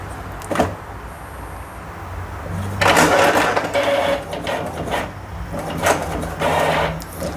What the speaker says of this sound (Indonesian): Saya pilih file print dan saya pilih printnya, jadi langsung saya print.